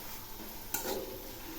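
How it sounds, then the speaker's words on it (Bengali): Turmeric and chilli powder are stirred as they fry in a pan for chana ghugni, a soft low sizzle with one brief scraping stir, quiet and close. "আবারও একটু নেড়ে দিচ্ছি।"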